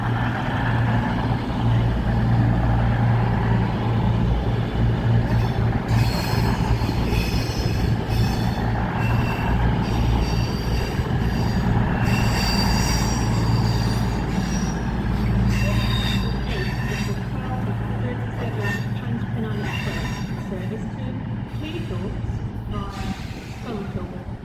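A train passes through Doncaster station with loud, sustained wheel squeal ringing in high tones above a deep, continuous rumble that fades slightly near the end; a voice is heard faintly in the mix.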